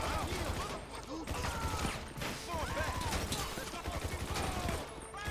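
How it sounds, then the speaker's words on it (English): Bullpup rifle gunfire in GTA Online, with bursts of rapid shots and scattered clattering impacts, loud and dense throughout amid other game effects. "Let's use the bullpup rifle on this."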